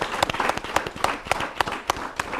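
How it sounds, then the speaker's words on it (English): Studio audience at a televised Nigerian town hall event applauding, a dense wash of many hands clapping with sharper individual claps punctuating it, moderately loud and steady throughout. "A round of applause for yourselves."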